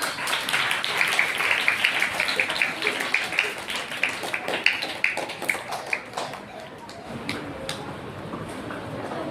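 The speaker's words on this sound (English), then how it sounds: "Give them a big round of applause today." An audience at a school Republic Day ceremony claps for students in a steady patter of applause, moderately loud and somewhat distant, thinning out toward the end.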